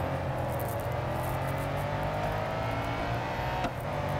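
A 530 hp Lamborghini Diablo SV races in the Real Racing 3 video game, its engine a loud, sustained, steady drone with layered harmonics, holding its pitch throughout, with no talking over it.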